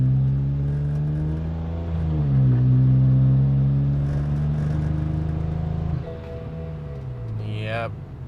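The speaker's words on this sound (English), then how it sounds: "engine malfunction, definite misfire" BMW 335i engine misfiring while accelerating under turbo boost, a loud droning engine tone that rises and falls in pitch with uneven, rough pulsing, heard from inside the car.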